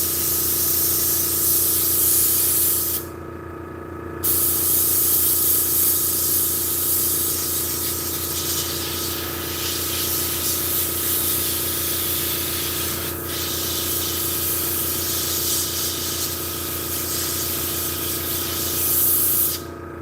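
An airbrush sprays paint onto model tanks in a long, steady, close hiss, broken by two short pauses, with a constant low hum underneath and no voices.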